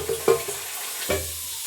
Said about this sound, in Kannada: ಬೆಲ್ಲದ ಪಾಕದ ಜೊತೆಗೆ ತೆಂಗಿನಕಾಯಿ ಮಿಶ್ರಣ ಚೆನ್ನಾಗಿ ಮಿಶ್ರಣ ಮಾಡ್ಕೋಬೇಕು.